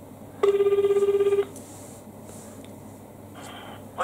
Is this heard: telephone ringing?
yes